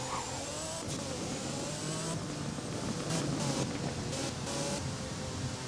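A steady car engine in the game Driving Empire drones continuously while driving, with a faint whine and occasional bursts of tire or wind noise over a dense, constant roar.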